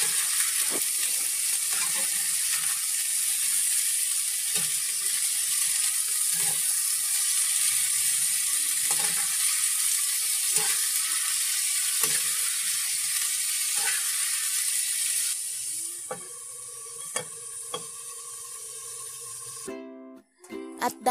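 Adobong sitaw, string beans in adobo sauce, sizzling and frying steadily in a pan for most of the stretch, with occasional clicks and scrapes, then quieter clattering near the end; no talking.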